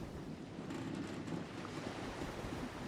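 Faint, steady wash of breaking sea waves with wind noise, a soft continuous surf ambience with no distinct individual crashes and no talk.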